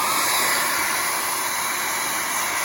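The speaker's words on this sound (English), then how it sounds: "there's just not enough air coming out of the hairdryer" A hair dryer that is not putting out enough air blows continuously with a loud, even whooshing hum and a faint high whine, nothing else heard.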